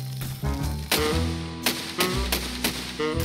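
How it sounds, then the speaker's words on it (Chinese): Twin small machine guns on a rotating tank turret in a video game fire in short bursts of loud, sharp shots over a constant musical backdrop, with no talking. "先试试两个小机枪的威力"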